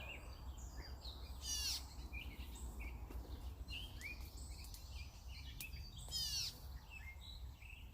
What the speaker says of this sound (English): We got all the birds singing to us.